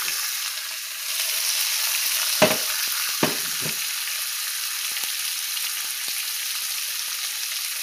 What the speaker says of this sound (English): Just because I want to hear the sizzle and watch it cook.